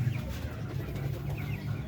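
A large male duck weighing around four and a half kilos calls in a pen with low, soft, murmuring sounds, fairly faint over a steady low background hum.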